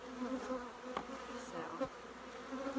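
Honey bees buzz steadily around an open hive during an apiary inspection, a close, continuous droning hum with a single brief spoken word over it.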